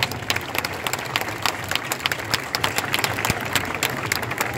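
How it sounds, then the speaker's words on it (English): A festival crowd at the 25th anniversary of Taste of the Danforth applauding the sponsors, sustained dense clapping with sharp individual claps standing out throughout. "So now let's applaud them."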